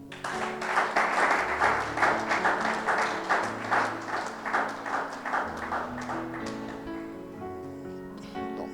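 A church congregation applauding in steady rhythmic unison, loud and close, with a sustained tone and musical instruments beneath that carry on as the clapping thins out toward the end.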